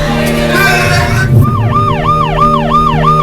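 An ambulance siren wails in a loud, repeating rising-and-falling pattern that starts partway through, with traffic rumble and crowd noise underneath at a street protest in Paris.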